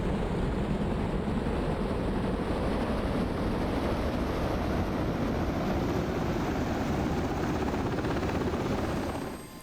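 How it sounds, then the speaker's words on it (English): A Latvian UH-60L Black Hawk helicopter idles with its engine running in DCS, a loud, constant turbine whine and rotor roar that holds steady and dips slightly at the very end. "Alright, let's let the engine stabilize."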